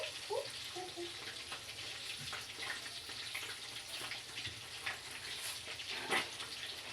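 Fish frying in a pan for breakfast: a faint, steady hiss of sizzling oil with occasional small pops and crackles, heard alone at low volume.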